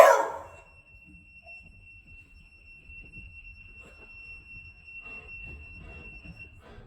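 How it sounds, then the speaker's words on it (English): A dog's single loud close bark sets off a smart bark control collar, which answers with a thin steady high electronic tone that holds for several seconds over faint room noise. "as soon as he barked, it was loud enough to be detected by the collar"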